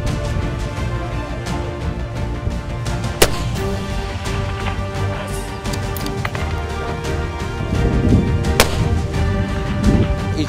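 Sniper rifles fire at targets on a military range during a special forces competition in Amman, Jordan, with a few sharp, isolated cracks standing out over steady outdoor rumble and background activity.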